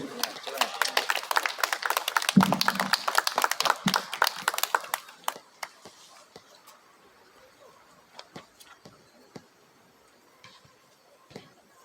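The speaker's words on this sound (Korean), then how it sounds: "뜨거운 박수로 환영해 주십시오." Audience applause at a commemorative memorial worship service, a dense burst of clapping for about five seconds that thins into scattered claps before a speaker begins.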